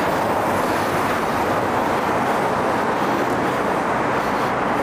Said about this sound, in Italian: questo posteggio auto, molto rumoroso